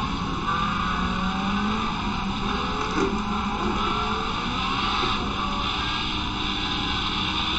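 A continuous race car engine drone with a steady high whine from the video game Project Cars 2, holding a fairly even pitch with no talking.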